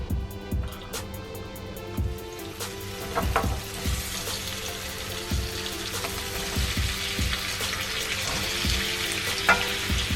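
Potatoes frying in a non-stick pan, a soft continuous sizzle with light scraping and stirring knocks, fairly quiet and close, no talking.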